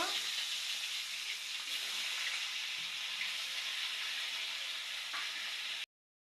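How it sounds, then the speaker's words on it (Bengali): Hilsa fish pieces and heads frying in hot oil give a steady, loud sizzling hiss that continues without a break for about six seconds, then cuts off. "তেল গরম হয়ে গেছে, মাছ ছেড়ে দিব"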